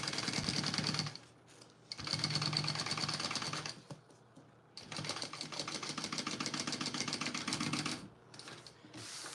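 A sewing machine top stitches a fabric wristlet in three rapid, buzzing runs separated by brief pauses, heard close and alone.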